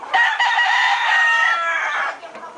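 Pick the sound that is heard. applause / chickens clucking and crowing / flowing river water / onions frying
chickens clucking and crowing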